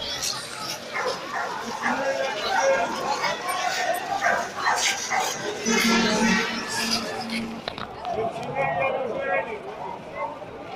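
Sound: puppy barking and yipping

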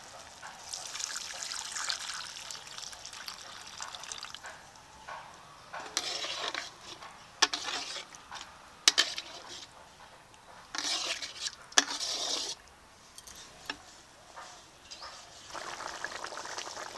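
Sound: pouring a little water into fish curry in pan

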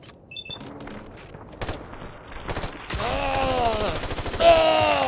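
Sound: gunfire in the video game Fallout 4

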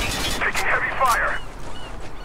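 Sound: heavy gunfire in video game Spec Ops: The Line

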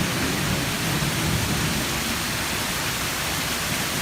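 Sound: rain falling near waterfall

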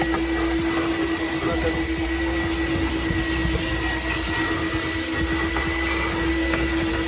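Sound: Tornador air cleaning gun blowing out car interior

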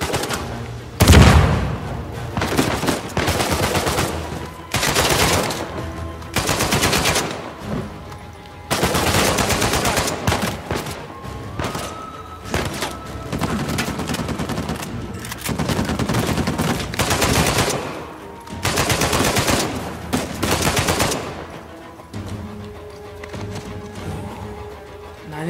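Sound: gunfire in Uncharted 4 video game

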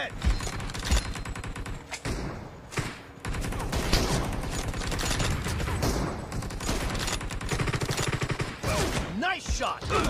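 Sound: gunshots in video game BGMI

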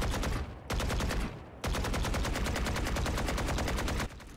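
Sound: Vandal gunfire with RGX 11Z Pro skin in Valorant video game

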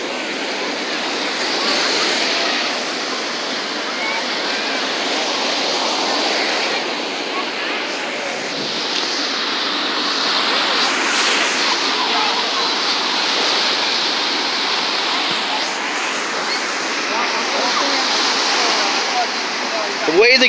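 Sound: ocean waves breaking on a beach

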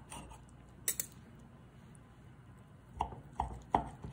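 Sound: knife cutting into a poached egg on Eggs Benedict

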